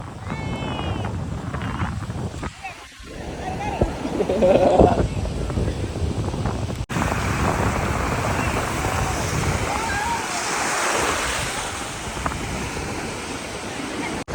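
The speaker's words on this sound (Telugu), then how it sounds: "బ్రో లైక్ అలలు అయితే నెక్స్ట్ లెవెల్ వస్తున్నాయి" Steady roar of surf and wind across the whole stretch at Suryalanka Beach, Bapatla, with people talking loudly over the rushing water.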